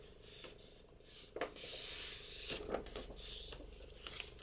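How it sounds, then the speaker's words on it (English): Soft, close rubbing strokes as a folded paper journaling page is burnished down by hand, a quiet series of scraping swipes with short pauses between them. "and burnish that down."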